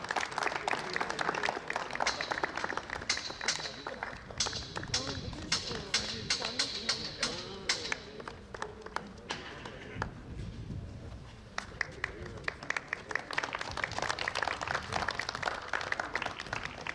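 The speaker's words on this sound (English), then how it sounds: "Please clap for them, everybody." Audience clapping for medal winners at a sports championship prize ceremony, scattered, uneven hand claps spread across the crowd, rising and falling over many seconds, with a loudspeaker voice heard in between.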